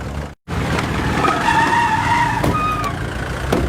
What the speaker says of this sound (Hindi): ए, तू गाड़ी उधर ले चल।